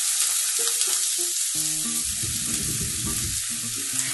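Pumpkin seeds fry in a pan on low heat, giving a loud, steady close-up sizzle with occasional stirring scrapes and faint tonal beeps.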